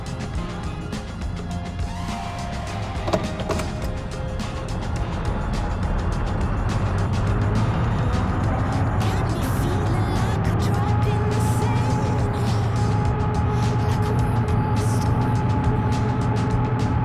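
A truck pulls away following a sedan, a continuous engine rumble with rising road noise that builds and holds steady, fairly close throughout.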